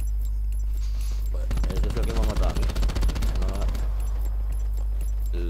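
Gunfire in the Call of Duty Black Ops 4 battle royale mode: a long burst of rapid automatic shots lasting over two seconds. It plays over a steady low hum, with voices faintly underneath.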